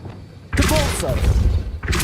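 A Depulso force spell cast in the Hogwarts Legacy video game lands as a sudden, loud thudding burst partway in, sustains briefly, then a second impact cuts in near the end.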